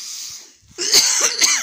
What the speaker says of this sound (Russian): Никак же кашель не проходит.